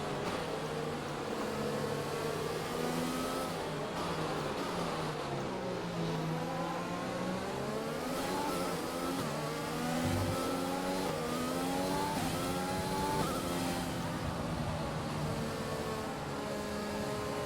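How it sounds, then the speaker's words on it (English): Formula 1 car engine in a racing video game at Bahrain, revving hard and continuously, the pitch sweeping up and down through gear changes, loud and steady with no talking. "Engine going wild out there."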